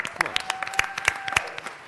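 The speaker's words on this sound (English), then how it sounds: "Let's give them a round of applause." Scattered applause at a city council meeting, a few sharp near claps standing out from a thin, uneven patter, with some faint voices mixed in.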